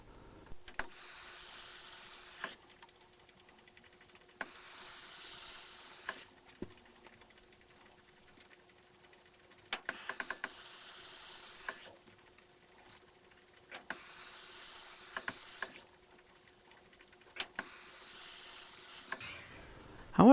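A steam iron presses fabric seam allowances open, releasing five separate bursts of soft hissing steam, each lasting about two seconds, with quiet gaps between them and no talking.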